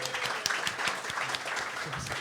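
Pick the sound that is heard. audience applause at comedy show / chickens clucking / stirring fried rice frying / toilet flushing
audience applause at comedy show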